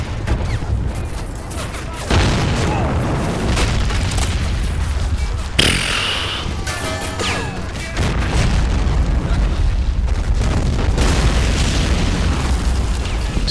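Booming explosions and bursts of battlefield fire rumble through a Men of War skirmish behind enemy lines, loud and layered, with a sharp blast near the middle.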